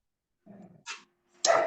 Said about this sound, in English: every time the dog barks, Jeff's screen comes up.